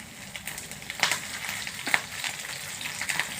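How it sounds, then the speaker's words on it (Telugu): Cumin seeds, dal, chana dal and green chillies fry in hot oil, making a steady close sizzle with several sharper crackles and pops as the ingredients hit the pan. "ఇప్పుడు నూనె వేడైంది కదండి, కొంచెం జీలకర్ర వేసుకోవాలి, కొంచెం పప్పు, శనగపప్పు, పచ్చిమిర్చి"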